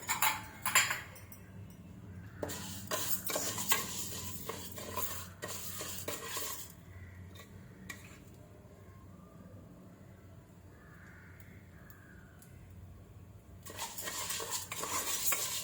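Moong dal being fried lightly in ghee for pongal, stirred with a metal spoon that clatters and scrapes against the pan in bursts, with a quiet sizzle underneath and a calmer stretch midway before the stirring resumes.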